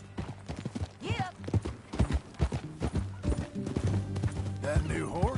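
Horse hooves clip-clop in a steady rhythm during a ride in the video game Red Dead Redemption 2. A whinny is heard, and voices talk over the hoofbeats.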